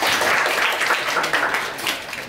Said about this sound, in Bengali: তাদের জন্য একটা করতালি